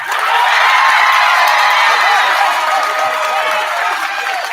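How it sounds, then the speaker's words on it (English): A crowd at a school culmination event claps and cheers loudly and continuously, a steady wash of applause with voices whooping throughout. "clap your hands for him"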